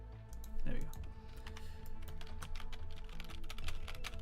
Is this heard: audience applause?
no